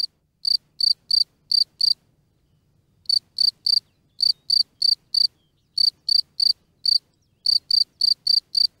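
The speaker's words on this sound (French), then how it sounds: "un grillon sortir et entonner son chant caractéristique, le chant d'appel." A cricket chirps alone in steady bursts of shrill, high trills, repeated in rhythmic groups with short pauses between them.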